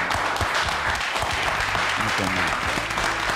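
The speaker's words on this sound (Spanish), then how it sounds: "Un aplauso para el Tata, muchachos" Applause from a studio audience for a guest, a dense steady patter of clapping throughout, loud and close, with some voices mixed in.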